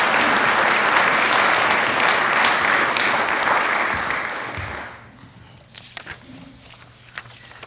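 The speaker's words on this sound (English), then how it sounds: "So could we have a round of applause for EMMYLOU Harris?" Audience giving Emmylou Harris a round of applause at a Hall of Fame ceremony, loud dense clapping that fades out after about five seconds, leaving a few scattered claps and room noise.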